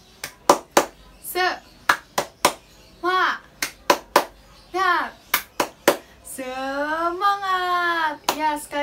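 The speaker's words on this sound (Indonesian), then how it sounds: "sekarang kita tepuk semangat bareng-bareng" Schoolchildren in a classroom doing a rhythmic spirit-clap routine, sharp close hand claps in a patterned beat alternating with the group chanting and shouting together in unison.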